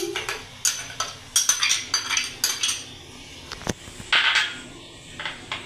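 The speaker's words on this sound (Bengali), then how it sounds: "এবার এর মধ্যে একে একে সমস্ত মশলাগুলো দিয়ে আমি মেখে ম্যারিনেট করে নিচ্ছি" Spices and onion paste worked by hand into a biryani marinade in a metal bowl, with repeated close scraping and clinking of a spoon against the dish in irregular bursts, no voices.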